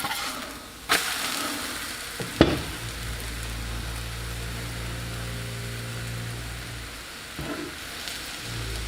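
A bacon pancake frying in butter in a pan right after being flipped gives a steady, moderately loud sizzle, broken by a few sharp knocks of the pan or spatula near the start.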